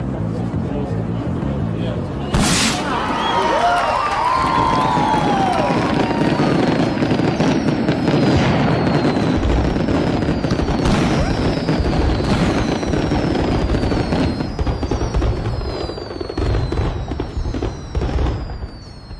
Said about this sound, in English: The signal sounds for the fireworks to start.